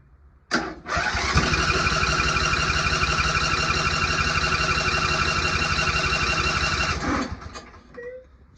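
A Briggs & Stratton Intek 21HP engine cranks and catches on choke, then runs at a steady, loud, close roar for about six seconds before shutting down.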